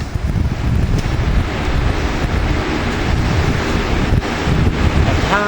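Wind buffets the microphone outdoors in a breezy spot beside a Lasko Power Plus box fan, model 3721, a loud, steady low rumble with gusty swells running throughout and no voices.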